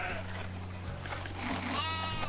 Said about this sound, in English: Pardon me, sheep. Coming through.